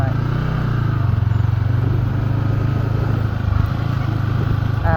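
A motorcycle engine idles and runs close by, loud and steady with a throbbing low pulse and slight rises in revs across five seconds, no clear speech over it.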